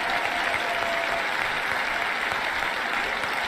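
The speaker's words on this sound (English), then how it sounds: "Oh, and look, Shapiro's clapping." Dense, steady applause from a large audience giving a standing ovation at a debate event with protesters, with Ben Shapiro among those clapping; loud, continuous and unbroken throughout.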